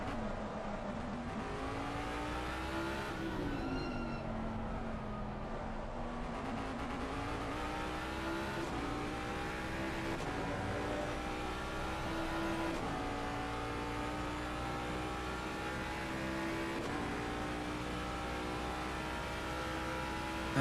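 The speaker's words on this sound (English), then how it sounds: "That 5-litre V8, it is quite a unique note we're getting off of these Jaguars." A Jaguar GT3 car with a 5-litre V8 races in a racing video game, its engine note droning loud and continuous for the whole stretch, pitch rising and falling through gear changes and revs.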